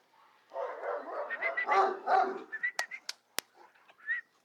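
A dog barks and yips in a quick run of sharp, close calls, with a few louder yelps toward the end and faint whimpering between them.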